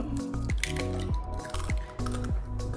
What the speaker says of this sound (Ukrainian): Далі е, відправляємо у мисочку трошки молока, одне яйце